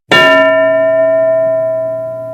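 A single bell is struck once during a classroom English lesson: a sharp metallic clang that rings on as a clear, sustained tone and fades slowly over about two seconds, loud and close with no voices.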